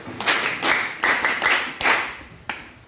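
Students at a junior high school reading competition clap for a team in several short bursts of rhythmic hand claps, with brief pauses between bursts.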